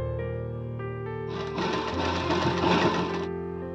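A sewing machine stitches the lining of a princess-cut blouse in one loud, steady run of about two seconds, close by, with a constant hum before and after.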